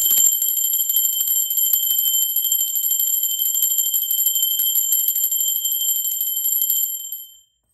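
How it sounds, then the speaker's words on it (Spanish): A bell struck once and left to ring, its bright sustained tone with strong high overtones holding steadily for about seven seconds before cutting off, close and alone with no talk. "va campana"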